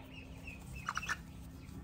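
A chicken being held gives three short, soft clucks in quick succession over a low steady background hum, faint and close.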